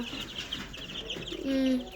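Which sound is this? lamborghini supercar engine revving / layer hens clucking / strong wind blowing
layer hens clucking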